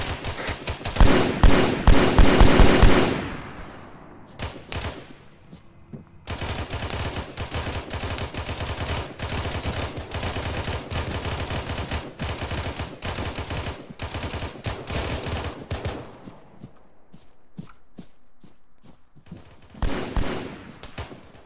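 Sustained gunfire in a video game firefight: loud bursts of rapid automatic fire with scattered single shots, rattling on almost continuously with a brief lull before resuming.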